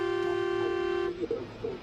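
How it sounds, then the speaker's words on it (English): A long, loud, steady semi-truck horn blast lasting about a second, followed by brief road noise. "so the semi-truck driver honks"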